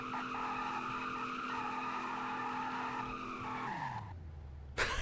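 A 2002 Chevrolet Silverado skids its tires through a donut in a driving game: a long, steady tire squeal over engine drone that sinks in pitch and cuts out, then a brief sharp noise.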